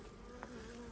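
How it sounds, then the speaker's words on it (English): Honey bees buzz faintly around hive boxes in a brief, steady drone with one slightly louder pass partway through. "Just lots of bees in the boxes."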